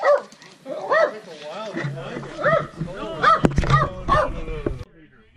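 A dog at a cabin in Canada barks and whimpers in a string of excited yips and whines, close and fairly loud, with some voices mixed in.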